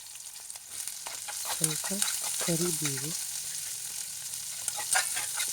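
Finely chopped onion frying in a pan with green chillies for an okra stir-fry makes a soft, steady sizzle and crackle that builds slightly, with a brief spoken word midway.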